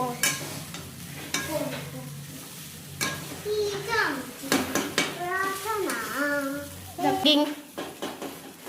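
Poha being stirred in a frying pan at home, with a spoon scraping and clinking against the pan as it sizzles. A child and an adult talk and sing throughout, so the stirring is heard under their voices.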